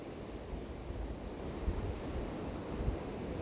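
Ocean surf off a windy coastline with sets of waves about half a metre to a metre high rolling in, a steady broad wash of breaking water and wind rumble with a couple of heavier thumps as waves land.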